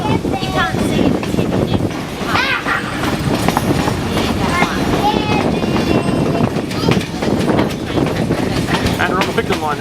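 A steam train runs along the Picton line at Thirlmere with loud, close, busy rattling and rhythmic clatter, with people talking over the noise.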